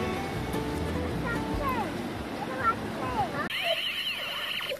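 Sea waves wash steadily onto a beach at Tajpur, a continuous close surf under people chatting nearby.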